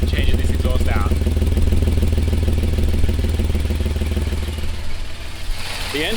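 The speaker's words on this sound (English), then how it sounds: "The engine actually purrs pretty nicely." A 1988 Toyota FJ62 engine idles with a leaking exhaust, a loud, steady low rumble with a regular pulsing beat, close up, with no talking.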